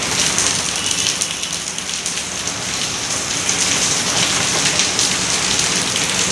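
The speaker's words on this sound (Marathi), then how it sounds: "मस्त पाऊस पडतोय." Steady heavy rain pours down continuously, a dense hiss of drops drumming on surfaces close by, with no voices.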